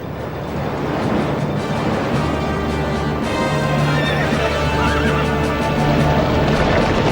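Horses pull Pharaoh's war chariots in pursuit. Loud neighs and whinnies ring out over a dense, continuous rumble of hooves and motion, close and busy throughout.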